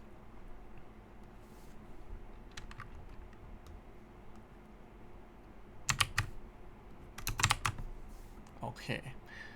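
Code for a Node.js and MongoDB tutorial being typed on a computer keyboard: faint scattered keystrokes that build into quick, louder bursts of clicking near the end, with no speech over them.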